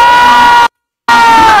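A concert crowd roars in a sustained, loud wash of cheering and shouting, cut off by a short gap of silence before the same dense crowd noise resumes.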